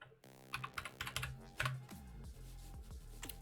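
Rapid keystrokes on a computer keyboard, a run of close, crisp clicks in uneven bursts with a brief pause partway through, heard alone over low electronic hum.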